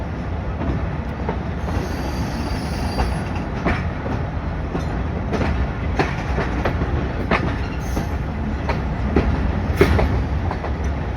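A passenger train runs along the Wazirabad–Sialkot branch line in Pakistan, a steady loud rumble of wheels on track with rattling carriages and scattered clacks and brief squeals throughout, heard continuously from on board.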